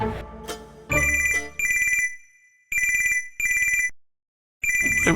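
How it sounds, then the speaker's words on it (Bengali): An electronic phone ringtone goes off in a home. It plays loud, bright ringing bursts in a choppy repeating pattern, stopping and starting several times with short silent gaps, and no one speaks. "এই ফোন এবার ধরো তো দেখি।"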